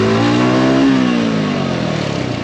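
A Mutt Moto GTSS 250 motorcycle braking hard: engine pitch sweeps up then drops as revs fall, with loud close engine and road noise and faint talk.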